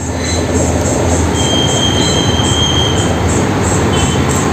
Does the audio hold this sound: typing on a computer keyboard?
no